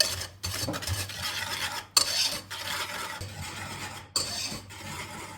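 Sugar and dry ingredients are stirred in a bowl with close, gritty scraping strokes, broken by two brief pauses and sharper knocks.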